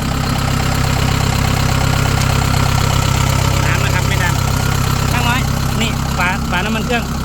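A Kubota DC68G combine harvester's diesel engine idles loud and close with a constant, rough mechanical drone. Later, brief bursts of voices or chatter sit over it.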